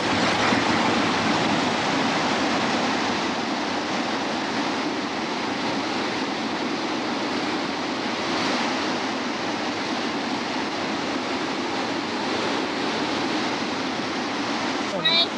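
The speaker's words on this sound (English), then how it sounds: "Right here is a little rough water." Rough stretch of river water rushing steadily at an old campsite spot, a broad continuous wash of turbulent flow close by, with no pauses.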